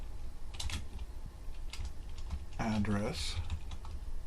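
A spreadsheet formula is typed on a computer keyboard in quick, light key clicks, heard alongside a person talking.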